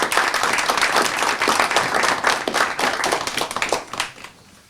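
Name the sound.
audience applauding students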